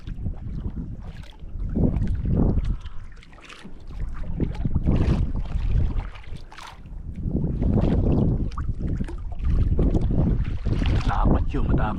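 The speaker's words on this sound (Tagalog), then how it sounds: "Lumakas ang hangin." Strong gusts of wind buffet the microphone in loud, roaring bursts, with water sounds beneath.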